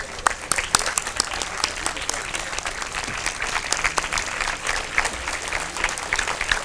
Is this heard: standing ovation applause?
yes